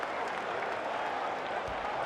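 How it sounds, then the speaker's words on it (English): Crowd cheering and applauding at an Evo 2024 Guilty Gear Strive tournament match, a steady loud roar of many voices sustained throughout, with commentators talking over it. "you can hear the crowd"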